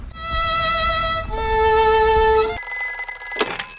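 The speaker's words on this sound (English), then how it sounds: "Let's phone Dr. Hamster the vet." A cartoon telephone rings in a Peppa Pig episode, a bright electronic tone that shifts pitch in steps over a few seconds, clear and alone with no talk.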